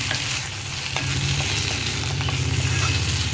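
Tomatoes cook down in a pan while being stirred, a steady close sizzle and frying hiss running throughout, with soft scraping stirs and no voices.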